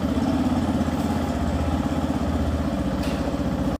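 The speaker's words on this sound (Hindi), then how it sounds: "यामाहा की ये नई बाइक बिना सेल्फ स्टार्ट मोटर और बिना किक के साइलेंटली स्टार्ट हो जाती है।" A Yamaha FZS hybrid motorcycle runs at a steady, low, pulsing idle nearby, with a continuous mechanical throb and no voices.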